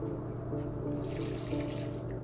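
Warm water runs steadily into a bowl of gluten-free tortilla mix with salt, baking powder and brown sugar, a close, continuous splashing pour with no talk.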